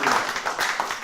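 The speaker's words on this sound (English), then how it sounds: "Give us a round of applause." Audience applause following a conference talk, a brief burst of many hands clapping in a room, fairly loud and even over about a second.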